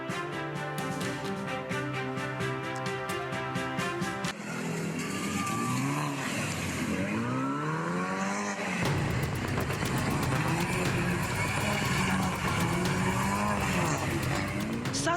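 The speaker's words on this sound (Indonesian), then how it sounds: "Satu persatu mobil mewah melakukan aksi nekat dan berbahaya drifting di persimpangan Jalan Metro Pondok Indah Kebayoran Lama, Jakarta Selatan" Luxury cars drift through an intersection on Jalan Metro Pondok Indah, Kebayoran Lama, South Jakarta, with sweeping tire squeals and revving engines. The sound is loud and continuous, with music playing at the start.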